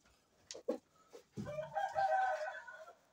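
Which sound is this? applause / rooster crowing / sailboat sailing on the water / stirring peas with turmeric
rooster crowing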